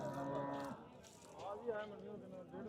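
A domestic buffalo moos at a livestock market on a rainy day, a drawn-out lowing call followed by a second shorter moo, fairly close and clear against quiet background.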